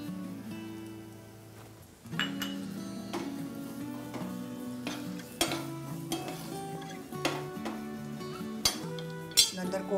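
Capsicum tossed into a pan for spring roll filling and stirred, giving repeated utensil clinks and scrapes over a soft sizzle, with music playing throughout.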